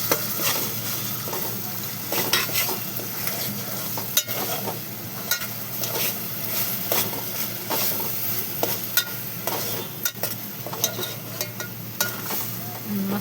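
Onion masala for biryani is stirred in a pan, a dense steady sizzle with frequent scraping strokes and spoon knocks, close up and unaccompanied by talk.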